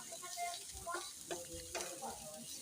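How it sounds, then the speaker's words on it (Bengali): Shrimp paste frying in oil with onions in a pan, a soft continuous sizzle broken by a few stirring scrapes, close and fairly quiet with no voices. "দিয়ে ভালোভাবে তেল আর পেঁয়াজের সাথে মিশিয়ে নিচ্ছি। নিয়ে ভালোভাবে ভেজে নেব।"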